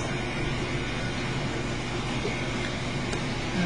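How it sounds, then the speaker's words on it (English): A dishwasher runs in a home kitchen, giving a steady, even wash of low rumble and hiss that stays constant throughout with no speech. "you may hear the dishwasher running in the background"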